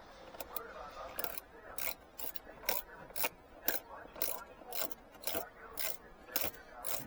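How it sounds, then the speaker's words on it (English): A 9/32 socket ratchets and clicks as bolts come out of the door panel of a 2013-2019 Cadillac ATS, a quiet, rapid run of close mechanical ticks with faint talk. "get your 9/32 socket, and take these off."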